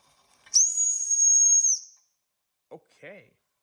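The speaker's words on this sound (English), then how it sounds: "I should probably show you the whistle." The steam whistle on a Jensen Model 75 steam engine blasts one loud, piercing, sustained shriek for a little over a second, then cuts off, followed by a couple of brief voice sounds.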